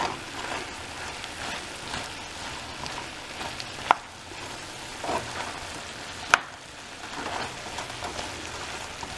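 Asian beef and veggie stir-fry is stirred in a pan with the heat turned off, a soft continuous sizzle and scraping with two sharp utensil clacks against the pan partway through.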